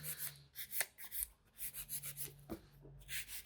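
A hand file rasps against gel nail extensions while the nail is being shaped and refined, giving short, close scratchy strokes in irregular bursts with brief pauses between them.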